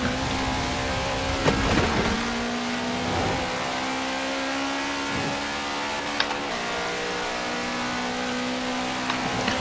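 A rally car engine in the video game Forza Horizon 4 drones steadily and loudly throughout, a sustained throaty hum with faint shifts in pitch and a few brief knocks, heard on its own.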